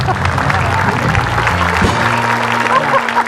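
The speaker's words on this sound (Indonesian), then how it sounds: "Tepuk tangan dong." Applause from the studio audience of a TV talk show, a steady wash of clapping heard together with crowd noise and voices talking over it.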